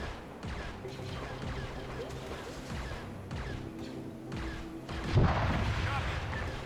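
A rocket explosion in a Star Wars strategy game, a sudden loud blast near the end after a stretch of steady battle noise with scattered impacts and distant booms.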